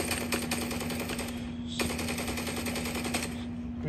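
Rapid automatic gunfire from the mobile game Call of Duty Mobile, a steady rattling stream of shots with a brief pause midway before firing resumes, loud and continuous without talk.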